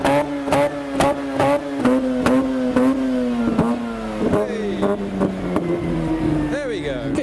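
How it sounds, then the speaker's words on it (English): A Mazda RX-8 engine revs at a car show, with several sharp, rising blips of a sustained engine tone, near and loud, mixed with crowd chatter and background noise. "it sounds like the RX-8 started"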